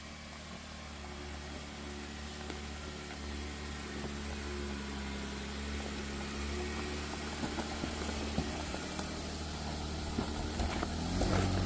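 An off-road overlanding vehicle labors up a steep mountainside incline on a dirt road, its engine droning steadily and close, with rumbling vibration and a few knocks over the last seconds; no one speaks.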